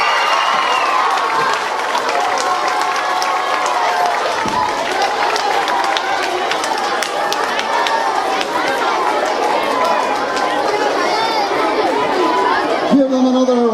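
A crowd of children and parents at a school math competition claps and cheers for the fifth-grade winners, with steady chatter and voices throughout, loud and continuous, ending in a brief thump and hum.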